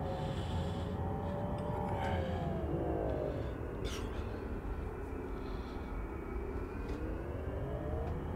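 A heavily loaded military jet taxiing in the DCS flight simulator, a constant loud engine drone with slowly shifting whining tones throughout, close and unbroken.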